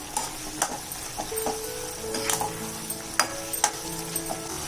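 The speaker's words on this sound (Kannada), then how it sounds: "1 ಟೀ ಸ್ಪೂನ್ ಅಷ್ಟು ಗರಂ ಮಸಾಲ ಪೌಡರು ಎಲ್ಲ ಮಿಕ್ಸ್ ಮಾಡ್ಕೋಬೇಕು" Vegetable kurma frying in a pan as coriander, cumin and garam masala powders are stirred in, a faint continuous sizzle broken by scattered spoon clinks and scrapes.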